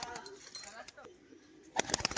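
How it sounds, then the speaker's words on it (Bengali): Domestic crested pigeons coo softly and briefly close by, followed by a burst of sharper sounds, while someone speaks. "এগুলো যদিও ঘরের পায়রা এই ডাক করছে"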